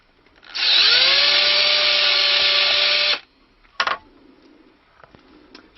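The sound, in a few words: drilling a hole in a wooden stick dulcimer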